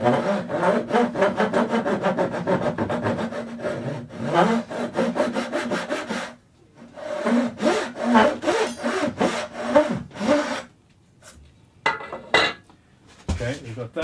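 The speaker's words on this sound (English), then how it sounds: "I'm going to cut the initial nut slot" A hand saw cuts the initial nut slot on a bass guitar build, a quick run of steady rasping strokes in wood, loud and close, with a brief pause midway before a few shorter, scattered strokes.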